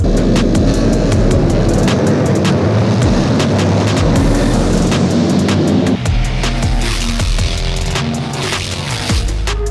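Harley-Davidson race motorcycles launch from the grid at Road America. A loud, continuous, close engine roar fills the air and its pitch and texture shift partway through as the pack pulls away.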